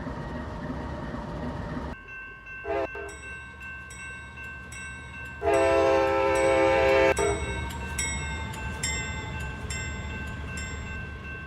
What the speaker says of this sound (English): There is an Amtrak train coming through, so clear the main line.